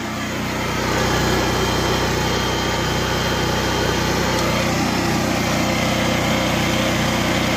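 A Vulcan VG3600S portable petrol generator catches and runs, its engine rising within the first second to a loud, steady, buzzing drone that holds unchanged to the end, with no talking.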